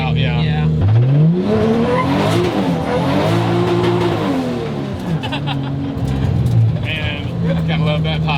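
A 500 hp Toyota 2JZ-powered drift car revs hard and slides, its engine note rising and falling under loud tire squeal, ending with crackling exhaust pops; people talk briefly over it.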